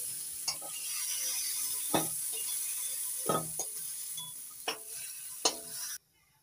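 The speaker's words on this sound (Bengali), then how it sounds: "চিংড়ি মাছগুলো নাড়াচাড়া করে নিচ্ছি" Prawns fry in oil in a kadai for a pui prawn chachhari, with a steady sizzle broken by sharp scraping taps of a spatula stirring them, ending abruptly.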